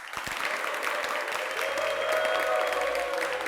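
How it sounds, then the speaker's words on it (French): Studio audience on a talk show applauds its two guests, a steady, fairly close wash of clapping that holds evenly throughout, with a faint tonal hum running beneath. "on va applaudir pour ça."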